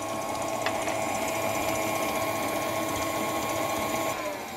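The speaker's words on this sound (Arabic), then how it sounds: "نخفق لغايه ما يبقى عندنا قوام كده كريمي وابيض" An electric mixer whips a cream mixture for a chocolate dessert, a steady high whirring motor hum that runs loud and unbroken close at hand, then eases slightly at the end.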